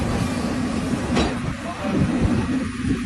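A metro train runs with a continuous loud rumble and rail noise, a few faint wheel clicks audible within the steady roar.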